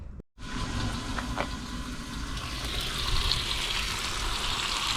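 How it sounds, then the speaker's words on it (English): Bacon fries on a Blackstone flat-top griddle with a loud, continuous close-up sizzle that starts after a brief dropout and holds steady throughout, with no voices. "Cooking bacon on the Blackstone."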